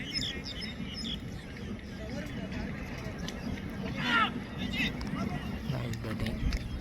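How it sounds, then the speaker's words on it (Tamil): Sparrows chirp in short bright bursts at an outdoor cricket ground on a sunny day, fairly distant and scattered over a steady murmur of crowd chatter and field noise. "பாருங்க, குருவிகள்லாம் வந்து"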